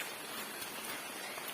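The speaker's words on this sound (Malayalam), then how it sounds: "നല്ല മഴയുണ്ട്" Heavy rain pours down outdoors during a dog walk, a dense, even wash of falling drops filling the brief moment with no voices.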